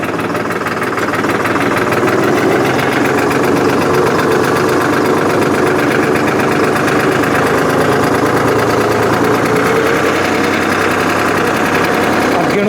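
A New Holland 5500 tractor's diesel engine runs in gear, a loud, close and steady rumbling throb with a constant mechanical rattle throughout.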